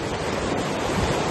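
Strong, storm-force wind roars continuously with the wash of sea surf on an island, a dense, even rush of noise with no voices.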